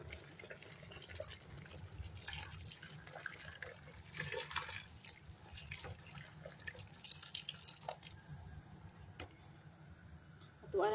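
Water poured into a cooking pot while making boiled beef nilaga, a steady splashing flow with light clinks and drips over about eleven seconds, close up.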